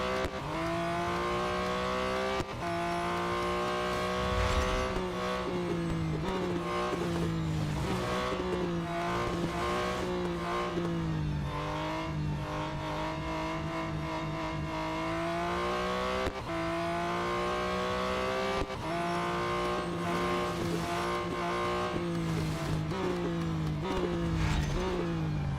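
Racing cars in the mobile game Real Racing 3 roar continuously, engine notes climbing and dropping with gear shifts and occasional tire squeal, loud and up close for the whole stretch.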